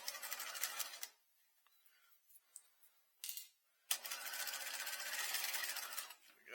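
A sewing machine stitches a patch pocket in two steady runs of close, whirring needle clatter, separated by a quiet pause with a few small clicks and a brief burst.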